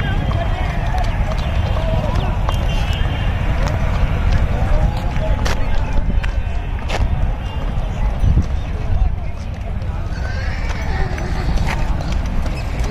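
Horse hooves clip-clopping as a powerful stallion and mare clash at a horse show, a steady run of hoofbeats under constant background chatter and crowd talk throughout.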